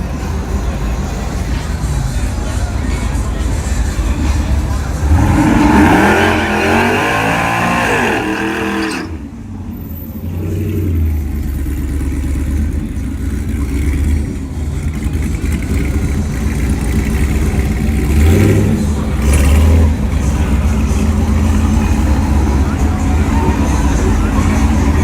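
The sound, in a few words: loud cars revving and racing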